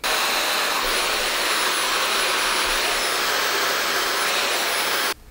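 A Dyson Supersonic hair dryer blowing at full power, a loud steady close-up whoosh with a high whine that runs unbroken for about five seconds before cutting off abruptly.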